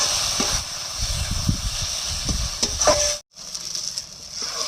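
Soaked Gobindobhog rice being stirred into a sizzling spice mix in a pan, a steady frying hiss with scraping stir strokes, briefly cutting out before the sizzle resumes.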